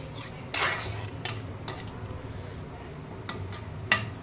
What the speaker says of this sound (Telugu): ముందుగా తీసి పెట్టుకున్న చింతపండు గుజ్జు దీంట్లో వేసుకొని కలుపుకోవాలి